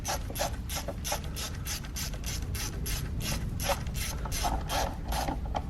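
A hand ratchet steadily clicks while threading valve cover screws on a 2013-2020 Ford Fusion, a fast, even stream of sharp pawl ticks over a low engine-bay rumble.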